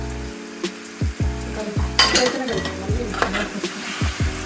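Fish curry being stirred in a pan, Telangana-style fish pulusu, with a steady sizzle and repeated scraping strokes of a spoon against the pan, close and fairly loud.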